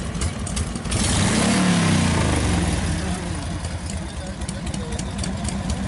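A carbureted 1200 classic motorcycle engine idles loud and close, a steady throbbing rumble that swells briefly, at a classic and vintage motorcycle gathering with voices in the background.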